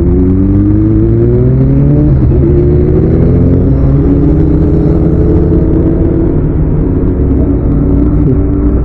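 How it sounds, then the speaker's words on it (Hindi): Several motorbikes with aftermarket exhaust silencers ride past at night on a road near Nandi Hills, Bangalore, a loud, continuous rumbling drone of engines with shifting revving pitches close by, and no voices. "यहाँ पे 4 बाइकर्स जा रहे हैं अपना अपना एग्जॉस्ट साइलेंसर लगा के।"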